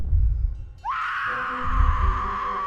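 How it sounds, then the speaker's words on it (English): A woman in a dinosaur movie lets out a sudden, piercing, sustained scream after a low rumbling background, the shriek holding loud and shrill to the end. "hear this woman screaming"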